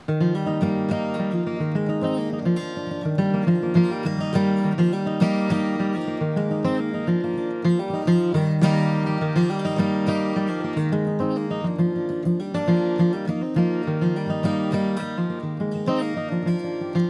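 Bright acoustic guitar chords played with a capo ring out continuously, strummed and picked in a steady flowing pattern, close-up with no voices.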